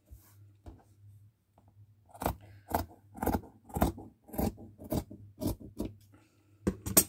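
Scissors cut paper or felt into a point for a handmade Christmas gnome, a run of crisp close snips in a steady rhythm after a quiet start.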